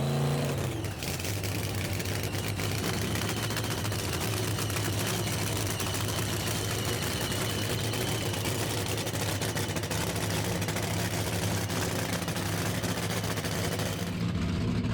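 Nitro-fuelled funny car drag racing engines firing up at a raceway at sunset, a loud continuous blaring roar with a crackling edge, close and sustained throughout with no talk.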